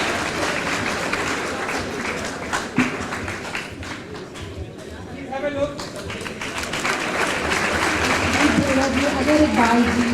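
Audience applause welcoming comedians onstage at Antaragni '21, the Kanpur college festival, a broad steady wash of clapping from a large crowd that swells toward the end, with a voice speaking over it.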